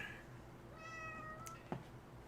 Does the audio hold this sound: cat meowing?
yes